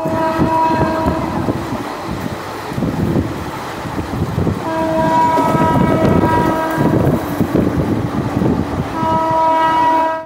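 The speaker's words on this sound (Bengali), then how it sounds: "এখন এই আহমদপুর জংশন আর সাঁইথিয়ার মধ্যে এই ট্রেনটি নন স্টপ চলবে।" A passenger train runs non-stop between Ahmadpur Junction and Sainthia Junction, its steady loud rumble and clatter continuous throughout, with sustained horn-like tones sounding at the start, middle and end.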